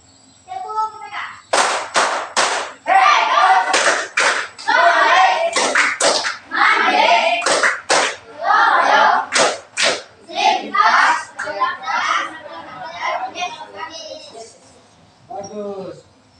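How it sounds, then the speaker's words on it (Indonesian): A classroom group of children claps through a rhythmic clap routine, with sharp bursts of clapping in patterned sets and chanting voices between them, fairly close and loud. "Tepuk tangan."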